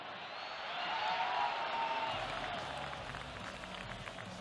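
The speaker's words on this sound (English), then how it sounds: "More of that light applause was required 2 minutes later when Malki made it 2-0." Steady light applause from a large, distant stadium crowd at a World Cup Asian qualifying football match, a continuous wash of clapping with faint crowd murmur and no clear voices.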